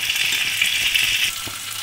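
Cheese for a Maggi gold coin snack sizzles in a pan over a medium flame, giving a steady, close, bright hiss with faint bubbling beneath, alone and without talk.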